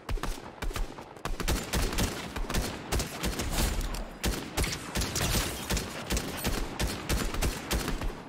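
Rapid gunfire in the Fortnite video game aimed at a tree, a dense, loud, near-continuous burst of shots with brief gaps, filling the whole stretch with no voices on top.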